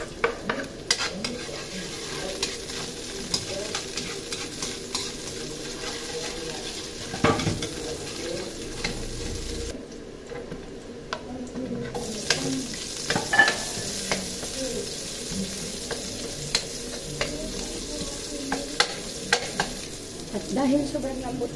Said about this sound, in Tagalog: Mag-gisa pa ako niyan. Dito sa ating kawali mga loves, maglagay tayo ng konting mantika.